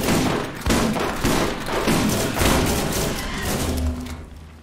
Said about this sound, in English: I'll say this shotgun is effective.